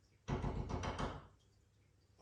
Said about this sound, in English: My door's knocking